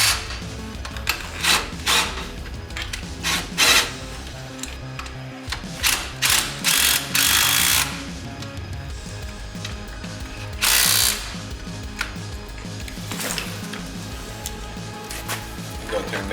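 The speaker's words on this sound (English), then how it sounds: "Go ahead and tighten your bolts up." A hand ratchet tightens front suspension bolts on a 2001-2005 Ford Explorer Sport Trac, with loud close bursts of rapid pawl clicking and a few short pauses between pulls.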